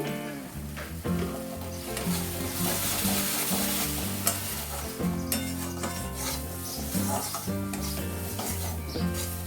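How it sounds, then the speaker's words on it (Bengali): Egg palok masala being sautéed and stirred in a pan, a loud, steady sizzle with repeated scraping strokes of a spoon running throughout, no talking. "এবার এটা ভালো করে কষিয়ে নিতে হবে।"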